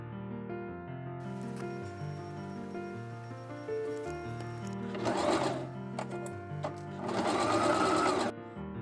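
A sewing machine stitches a fabric piece onto a 1950s-style coat collar, running in a steady mechanical hum with two louder, busier bursts of rapid stitching later on, close and clear.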